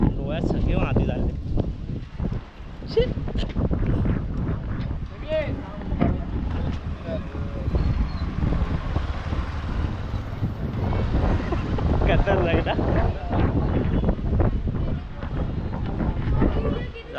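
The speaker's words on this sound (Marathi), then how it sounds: "भरपूर खतरनाक वारा सुटलाय" Strong storm wind gusting through a village near Khed and blowing dust, with constant roaring buffeting on the microphone as people talk over it.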